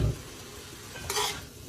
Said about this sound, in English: I'm just gonna stir it again a little bit.